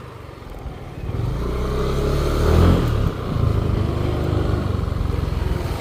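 An East Ride 175 or Aerox 155 scooter engine revs up loudly and close, rising to a peak, dipping briefly and then holding a steady throbbing drone.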